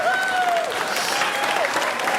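Applause and cheering ring out from a comedy-show audience, dense clapping with whoops rising over it, sustained and loud for a couple of seconds with no talk on top.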